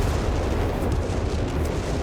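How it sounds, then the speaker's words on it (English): Whiz-bang rocket artillery slams into a Pak 38 anti-tank gun in Company of Heroes 3, a dense, continuous roar of explosions and rumble filling the whole moment at high volume. "Whiz-bang on the Pack 38 here."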